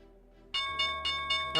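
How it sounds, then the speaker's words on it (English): A stock market opening bell rings in a live trading broadcast, several bright repeated strikes starting abruptly and building in loudness, close and clear. "there's the opening bell."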